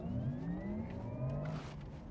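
A Porsche Taycan 4S electric car pulls away hard from a standstill, its motor whine rising steadily in pitch over about two seconds of continuous close, loud interior drive noise, with no one talking.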